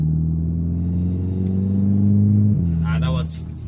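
A Volkswagen Scirocco MK6 GTI with DSG gearbox pulls away, its engine note climbing steadily then dropping smoothly at a gear change, heard from inside the car while someone talks over it.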